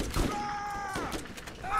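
Gunfire in the video game Borderlands pops in a quick burst under a player's voice, close and moderately loud over a short stretch.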